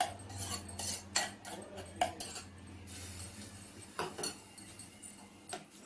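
Cucumber salad stirred with a spoon, giving irregular clinks and scrapes of metal against a bowl, close and moderately loud, with a few sharper taps among softer mixing sounds.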